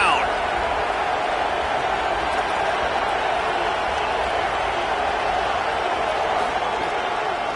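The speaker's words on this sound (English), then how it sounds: "Crowd getting this defense whipped up on 3rd down." Stadium crowd in a college football video game at Ole Miss roaring on third down, a loud, even wash of cheering that holds steady throughout with no breaks.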